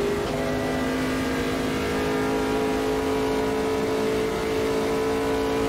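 A race car engine in the Automobilista 2 racing game holds high revs while topping out sixth gear at the Nordschleife, a loud, continuous, steady whine that builds slightly in pitch with no voices over it.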